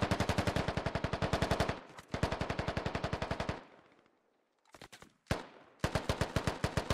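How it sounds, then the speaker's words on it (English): Automatic rifle fire in the tactical shooter game Squad: long rapid bursts of close, loud shots, a brief pause with a few scattered rounds, then another sustained burst. "Shots seem like they're coming in from the northwest."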